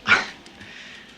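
A single short, sharp dog bark sounds close by and then fades into quiet room background.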